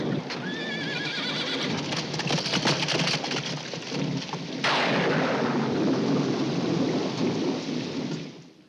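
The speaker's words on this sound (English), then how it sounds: "Thunder, lightning, bolting horses, Mr. Polanski." A violent film thunderstorm from a Macbeth adaptation, with heavy steady rain, a horse whinnying early, and a loud thunderclap crashing in midway before rolling on under the downpour.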